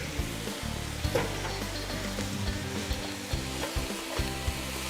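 Braised cabbage sizzling and frying in a pan as it is stirred, a steady close crackle with occasional scraping bumps from the utensil, no voices.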